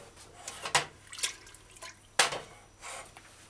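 Water is poured into a pressure cooker holding soaked kidney beans, giving a few faint splashing and dripping bursts with quiet gaps between them.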